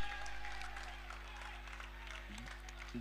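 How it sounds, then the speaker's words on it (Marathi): Distant, faint applause for batsman Omkar Bhosale at the Melvin Memorial Cup club cricket match, a thin steady patter of clapping over a low electrical hum. "एकदा जोरदार टाळ्या ओमकार भोसले यांच्यासाठी होऊन जाऊ द्यात"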